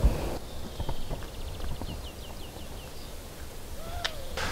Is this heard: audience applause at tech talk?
no